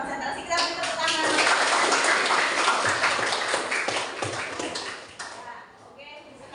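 A classroom of students claps in a sustained burst of applause, dense and fairly loud for several seconds before tapering off near the end.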